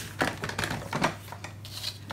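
Paper scissors trimming tabs off a cardstock template for a hexagonal drawer unit, heard as a series of close, crisp snips and rustles with irregular rhythm. A steady low hum runs underneath.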